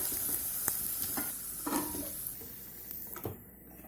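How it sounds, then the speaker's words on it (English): Potatoes fry in mustard oil in a deep pan with a steady, soft sizzle. A few light scraping and stirring clicks sound close by. "Now take a deep pan and heat some mustard oil. Fry the potatoes."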